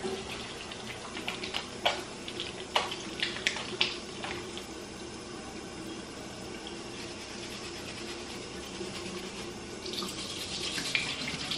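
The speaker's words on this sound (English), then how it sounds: "I have to wash my hands with soap and then air dry them" Hands are washed with soap under a running tap at a sink, with steady water flow and a few splashes and knocks near the start, heard close and without talking.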